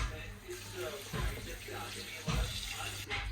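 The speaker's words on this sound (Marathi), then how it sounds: "हे आहे नांग्याचं पाणी जे की आता यात ओतायचं आहे" Crab-claw water poured into a pan of frying crab curry, a soft running, splashing liquid sound close by with a low background hiss.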